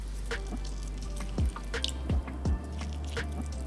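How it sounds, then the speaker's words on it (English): Lime juice squeezed into a pot of lentil dahl, a few soft wet drips and squelches spaced over a few seconds, close and fairly quiet against a low background hum. "lastly squeeze in the juice of a lime"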